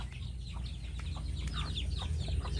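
Chickens cluck in a rural yard where a daughter is helping with the flock, a busy run of short, close calls over a steady low rumble.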